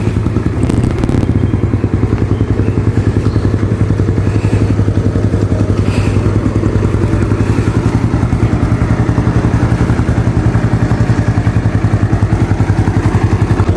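A 2008 Yamaha Mio Sporty scooter engine idles steadily up close, a loud, even, buzzing putter with a faint rattle, running without pause and with no talking.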